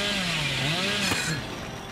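Hillbilly's chainsaw from Dead by Daylight buzzes loudly and continuously through the whole moment, its revving pitch bending and sliding as it runs, with no talking over it.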